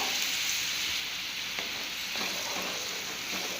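Tomato purée hitting a hot Tamil-style tempering sizzles steadily and loudly from close by, with a few soft stirring scrapes in the pan. No voices accompany it.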